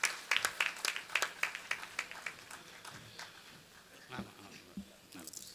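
An audience claps to welcome a speaker to a stage, a burst of scattered applause that rises early and thins out, with faint voices underneath.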